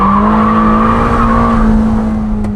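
A Ferrari Amalfi Spider with a 3.9-litre engine, roof open, gives a loud, close, steady exhaust drone that holds one even pitch throughout.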